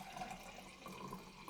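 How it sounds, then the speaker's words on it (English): Coffee being poured into a cup, a faint, soft trickling and splashing of liquid that runs steadily for a moment, quiet and close, with no voices. "pardon me while I pour some coffee"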